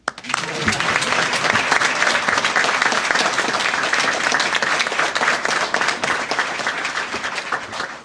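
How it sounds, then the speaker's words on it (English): Applause breaks out at a South Carolina governor's announcement, starting with a sharp onset and holding as broad, dense clapping from a large audience for the whole stretch. "You can clap now."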